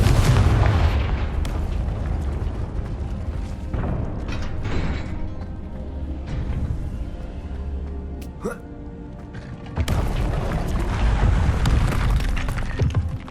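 A Confringo fire-blast spell cast in Hogwarts Legacy, with a loud booming burst at the start and another after about ten seconds, separated by a rumbling, crackling spell-combat stretch.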